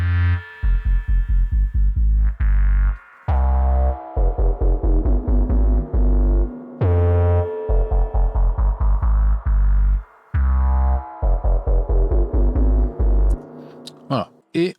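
A dub mix track carrying only the saturated frequencies above the bass line, run through reverb, pulses in loud rhythmic stabs with brief gaps, ending in scattered sharp echoing hits.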